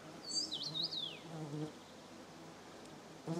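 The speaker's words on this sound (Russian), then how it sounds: "Убирайтесь, пауты." Horseflies buzz steadily close by on a village homestead in June, with a brief chirping call early on and a low hum underneath; no one speaks.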